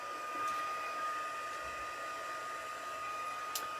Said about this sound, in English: we're going to warm up our heat tool